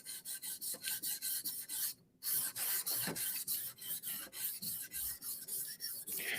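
A knife blade is stroked repeatedly across a 1000 grit whetstone, making a steady rhythmic rasping scrape with one short pause, close and clear with no voices.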